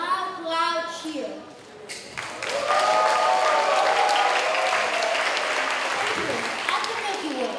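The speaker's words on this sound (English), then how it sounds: "please give me a loud, loud cheer." A summer camp audience cheers loudly and applauds after a voice asks for a cheer, the dense clapping and shouting swelling up and holding steady for several seconds.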